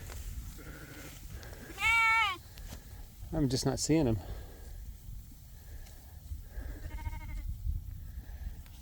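Sheep bleating in a field, a few separate calls from nearby animals spread through the clip, mixed with a person talking and outdoor background noise.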